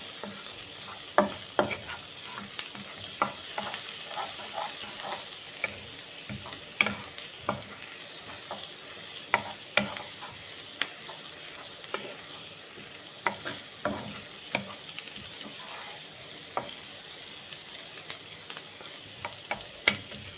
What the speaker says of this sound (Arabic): اديلهم كده تقلبتين لغايه ما يدبل معايا البصل وريحه الثوم تطلع كده